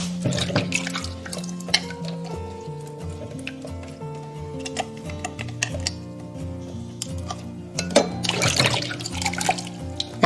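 Tap water runs and splashes over fresh squid being washed by hand at a kitchen sink, with close intermittent drips, wet squelches and small knocks in a steady flow.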